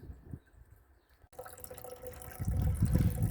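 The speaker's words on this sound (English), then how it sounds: "there is a drip there, but it's not speeding up" Water from a drip hose trickles into a raised garden bed, faint and sparse at first, then swelling into a louder, steadier splashing flow near the end. No voices.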